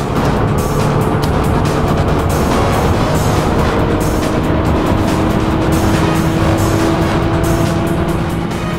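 A 1995 Opel Omega B with the 2.0-litre X20XEV engine and manual gearbox accelerates hard while overtaking three cars at speed, its engine note climbing steadily under continuous loud road and wind noise, with no talking.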